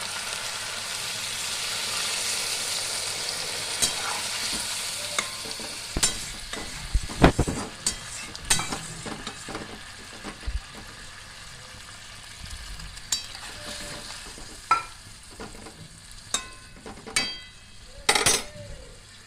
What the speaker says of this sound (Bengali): আমি একটু নাড়াচাড়া করে অল্প করে জল দিয়ে ঢাকা দিয়ে দেবো।